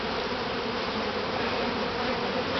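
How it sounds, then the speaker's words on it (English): Dense, loud swarm of honey bees droning continuously around an opened top bar hive during a honey harvest, close and unbroken with no talk. "I'm going to try to get these bees off because they'll get killed in the next hive."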